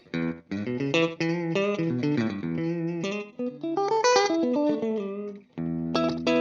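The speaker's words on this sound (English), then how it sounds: "It's just the standard digital delay sound that I use" Electric guitar notes and chords through a GFI Clockworks programmable digital delay pedal, a short slapback echo doubling each attack, played in a loose phrase with brief pauses.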